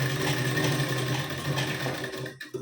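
A sewing machine runs steadily while stitching tucks into a blouse, a continuous close whirring hum that stops abruptly near the end.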